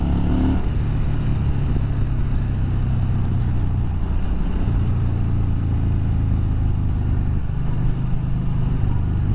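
A 2020 Yamaha Bolt R-Spec cruiser's V-twin engine drones steadily while riding, a smooth low rumble that shifts pitch gradually under constant wind noise.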